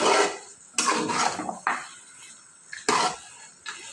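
A spoon scrapes and stirs thick akhni gravy, mixed with milk powder, in a metal cooking pot, giving several distinct rasping strokes with quiet gaps between them.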